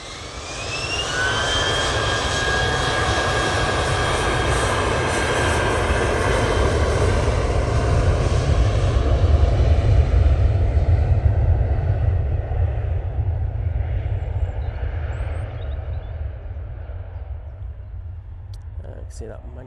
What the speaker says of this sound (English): See that magnificent 777 making its way out towards me now